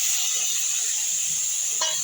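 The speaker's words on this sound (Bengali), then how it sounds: "এবার আমি মশলার পেস্টটা দিয়ে দেব।" Spice paste hits hot oil in a pan for a koi fish curry, a steady bright sizzle and hiss close by throughout, with a small clink near the end.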